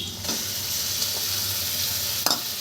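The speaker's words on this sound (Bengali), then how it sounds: "এবার আমি পেঁয়াজ বাটাটা দিয়ে দেবো" Onion paste sizzles in hot oil in a pan for potol posto, with a steady frying hiss and a couple of sharp scrapes of a spatula stirring it.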